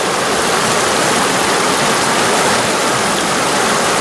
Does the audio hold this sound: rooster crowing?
no